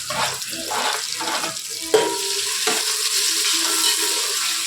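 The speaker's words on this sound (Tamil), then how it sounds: "ஆனியன் வதங்கிட்டு இருக்கு." Onions and chillies sautéing in a pan, with a constant hissing sizzle and a few scraping stirs, including one sharp knock.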